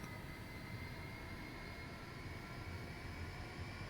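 Twin jet engines spool up together in a flight simulator game, a steady, loud whine and roar running without a break from start to finish.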